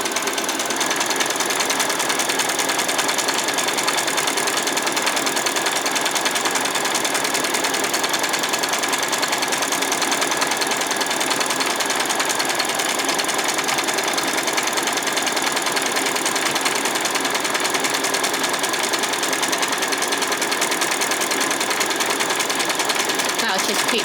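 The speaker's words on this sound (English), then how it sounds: "I'm going to change to a zigzag stitch now. I'm going to come around and zigzag all the way around." A sewing machine running a continuous zigzag stitch around a doll's skirt hums and clatters in a rapid, steady rhythm for the whole stretch, close and fairly loud.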